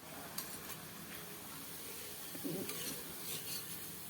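A laddu mixture cooks in a pan while being stirred, giving a soft, steady sizzle with faint scraping of the spoon, fairly quiet throughout.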